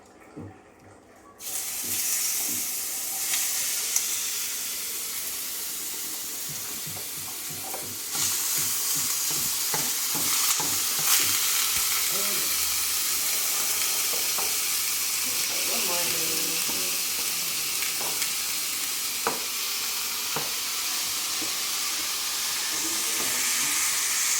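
Seasoned ground turkey and beans fry in a pan for crockpot chili, with a steady loud sizzle throughout. Scraping, clattering stirring strokes keep breaking in over the hiss.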